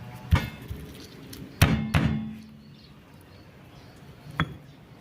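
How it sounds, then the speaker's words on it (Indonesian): Galangal for a spice paste is pounded and crushed. Three separate heavy thuds land close by, with a short double strike in the middle and quiet pauses between them. "lalu kita tumbuk, ini kita geprek ya laosnya"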